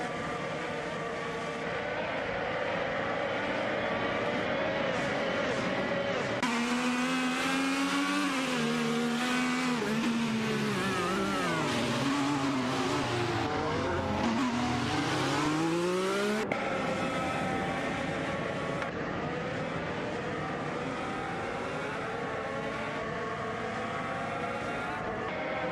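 Race cars speed through a racing video game, their engines droning steadily and loudly. Pitch shifts rise and fall as the cars accelerate and ease off, with no talk over the sound.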